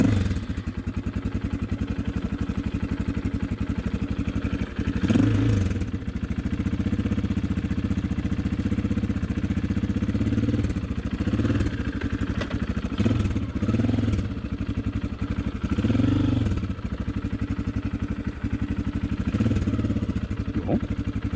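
A Honda XLR125R motorcycle engine runs at its first start after a reinforced clutch was fitted, a steady mid-pitched idle with rhythmic clatter and small fluctuations in speed, heard close up in an open outdoor spot.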